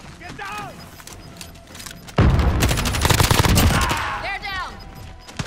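Gunfire in the video game Call of Duty: Modern Warfare bursts out loud and rapid, a dense stream of automatic shots with booming hits, beside in-game radio chatter and game sounds.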